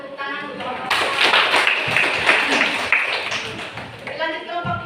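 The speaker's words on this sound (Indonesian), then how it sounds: "Demikian lagi kita berikan tepuk tangan untuk kelompok 1" An audience claps for group 1 at a church gathering, a burst of applause lasting a few seconds, mixed with voices talking over it.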